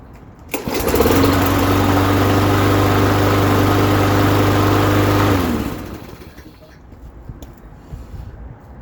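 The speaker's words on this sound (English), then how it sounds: "The lawnmower runs well." A Craftsman 6.75 HP walk-behind lawn mower, freshly tuned with new oil, spark plug, air filter and blade, runs at a loud, steady drone close by for several seconds, then shuts off and winds down into quiet outdoor ambience.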